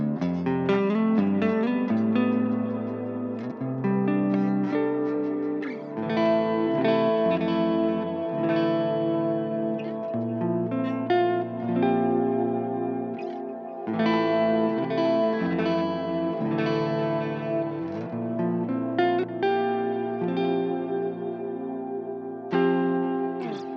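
An Epiphone Extura Prophecy electric guitar plays clean chords and ringing notes with some effects shimmer, steady and alone for over twenty seconds.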